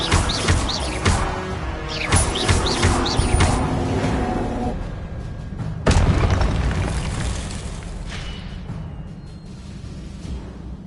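Repulsor spell blasts in Hogwarts Legacy, a loud burst of booming impacts with sharp crackling transients, followed by a second heavy boom near six seconds and a long rumbling decay amid other spell effects.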